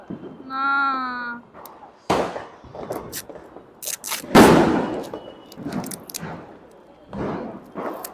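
Diwali firecrackers going off, several sharp bangs and crackling bursts at close range, one louder blast midway, with people talking and a short whistling tone near the start.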